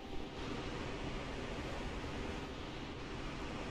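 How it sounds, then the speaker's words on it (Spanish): Ocean waves wash steadily in the video game Dark Souls 2 Scholar of the First Sin, a constant broadband surf roar at moderate level with no talking or other sounds over it. "Escuchan las olas, no hay enemigos."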